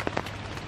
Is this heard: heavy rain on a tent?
yes